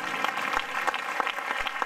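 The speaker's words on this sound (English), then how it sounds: "Come on, clap for Jesus. Clap for Jesus." A church congregation clapping for Jesus during a prayer service, a steady dense patter of many hands with rhythmic accents, fairly close and continuous, no talking.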